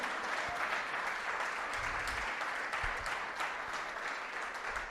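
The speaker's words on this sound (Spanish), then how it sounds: "Fuertes aplausos a Él." Steady applause from a church congregation at an Easter Sunday service, a dense wash of clapping hands sustained evenly throughout at moderate distance, with no voices standing out.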